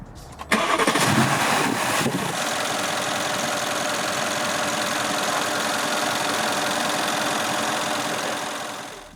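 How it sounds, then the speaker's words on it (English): A Mercedes-AMG M157 V8 car engine starts with a brief crank, then settles into a steady idle with a faint rattly texture, loud and close, no voices. "The M157 is also quiet, but it has more of a rattly sound on idle"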